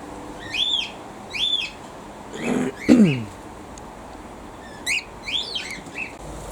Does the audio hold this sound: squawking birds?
yes